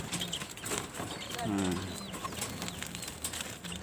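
Quail in a cage give soft, brief calls with faint fluttering, fairly quiet and close, while a person talks over them.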